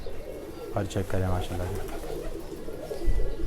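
Kaldum and Neeldum pigeons, a female and a male pair, give a few soft, close cooing calls in a short burst, with someone speaking nearby.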